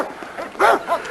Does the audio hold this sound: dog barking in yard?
yes